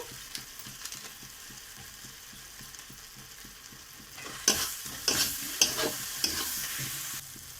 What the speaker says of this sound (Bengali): আমি এখানে যে বেটে রাখা মশলাগুলো রেখেছিলাম সেইগুলো দিয়ে আবারও কষিয়ে নিচ্ছি।